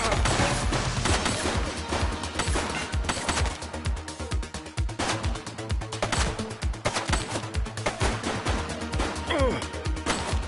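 Gunfire from a shooting suspect in the police video game The Precinct, rapid loud shots and impacts crackling continuously, with a voice briefly heard amid the din.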